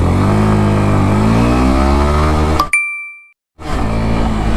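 Yamaha FZ S motorcycle engine revving hard in first gear, a loud rising drone that cuts off abruptly into near silence for a moment before returning.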